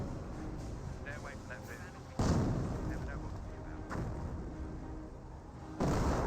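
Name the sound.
60mm mortar firing in Company of Heroes video game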